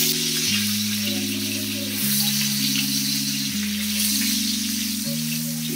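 Salted potatoes frying in about three tablespoons of refined white oil give a steady, close sizzle that runs unbroken under low, sustained tones.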